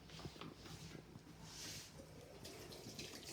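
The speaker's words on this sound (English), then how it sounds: "I add cold water" Cold water poured onto cornstarch in a kitchen, a soft splashing trickle with faint clinks, quiet and close, with no talking.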